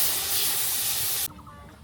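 Water hits a hot pot of beef nihari being cooked village-style over a fuel fire, setting off a loud, steady rush of steaming hiss that cuts off abruptly, leaving quiet background.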